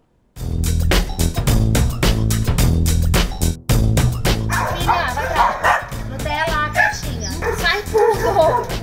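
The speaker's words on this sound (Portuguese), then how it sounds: "um abrigo que acolhe cães resgatados de maus tratos" Rescued dogs at an animal shelter bark loudly and steadily in a dense, rhythmic chorus of close barks, with yips and whimpers joining midway and a voice speaking over them.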